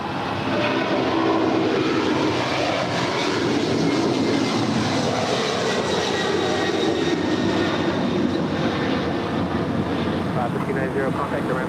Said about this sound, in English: we're awaiting those 2 cargo departures, which I think was one is already rolling down